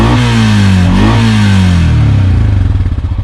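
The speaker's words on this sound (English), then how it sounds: "Hearing the sound of the motor, the 420" A 2020 Honda Rancher 4x4 ATV with a 420 cc, 26 horsepower single overhead cam liquid-cooled engine revving loudly up close, a rising then falling roar that settles into a rough, pulsing idle clatter.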